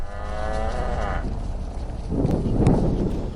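Cattle moo in green fields on the Big Island of Hawaii, with one drawn-out, tonal low call followed by a second, rougher moo, both close and loud with no talking.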